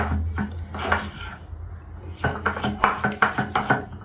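A spoon scrapes and clinks against a bowl while chocolate filling with tahini is stirred, a run of close, irregular metallic scrapes that grows busier toward the end, with no talking.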